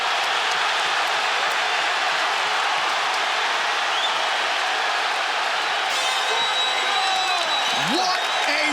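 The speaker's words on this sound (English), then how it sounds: "They are standing and cheering at Barclays Center." A UFC arena crowd at Barclays Center roars and cheers on their feet after a fight, a loud sustained wall of crowd noise with a whistle-like tone near the end.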